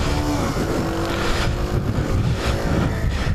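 Sinnis Trackstar 125cc motorcycle engine, a 2015 model built with the Chinchi factory, running steadily and loudly up close with a continuous buzzing drone and no talk.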